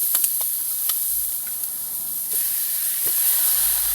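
Onion sizzling in a hot pan while being sautéed, a steady bright hiss that stays even throughout with a few faint clicks and pops mixed in, close and with no talking.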